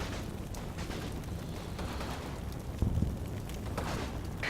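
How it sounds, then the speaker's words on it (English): Mortar shells explode during a World War II tactical battle around Aachen in a computer wargame, a dull distant boom landing against steady background rumble and noise. "So that was the mortars coming down on the 88."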